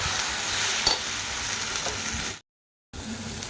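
Gongura leaves stirred in a hot pan give a steady, close sizzle with faint scraping, running continuously before a brief silence and then resuming.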